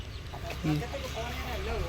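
A rooster and hens cluck on a farm, short clucks and a brief squawk rising over steady background noise, with someone talking over them.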